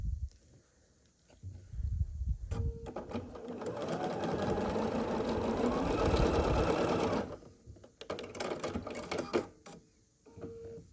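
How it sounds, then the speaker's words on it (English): A domestic sewing machine runs in a steady burst lasting several seconds, joining three scrappy quilt block pieces for a Lady of the Lake block, with shorter start-stop runs and fabric handling before and after. "we'll work on sewing these 3 together"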